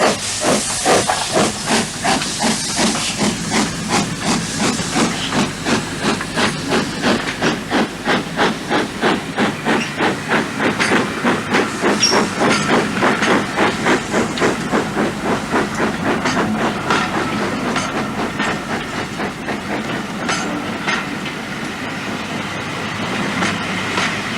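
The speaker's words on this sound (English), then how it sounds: "A continuous procession of trains through York provided a wide variety of locomotive types." Steam locomotives hauling trains through York, a loud continuous chuffing beat with hissing steam and rhythmic clatter of wheels on rail as the train passes close by.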